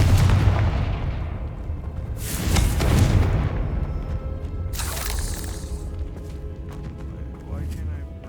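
Confringo blasting spell in Hogwarts Legacy, two sharp booming explosions a couple of seconds apart with crackling debris and rumble trailing off, amid game ambience and a voice speaking.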